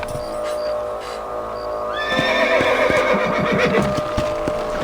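A horse in the video game Red Dead Redemption lets out a loud, rising whinny, followed by a few hoof clip-clops over a low ambient background.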